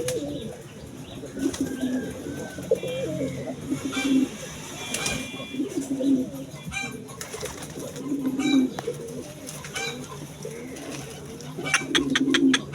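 Pigeons coo close by in low, throaty, repeating phrases, with soft flutters and small clicks mixed into the steady background.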